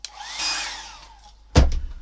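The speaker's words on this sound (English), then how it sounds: "so I get my hairdryer" A steady whirring hair dryer hums for about a second and a half, drying ink on a pen-and-ink drawing, then a louder rushing burst of air cuts in near the end.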